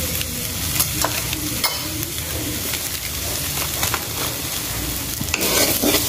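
A pizza topping mixture is stirred in a pan, a steady scraping and sizzle running throughout with a few sharper utensil knocks, close and moderately loud, no talk.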